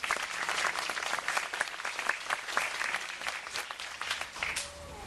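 An audience applauds at the official opening of IBS, with steady, dense clapping from many hands, fairly close and continuing throughout, easing slightly near the end.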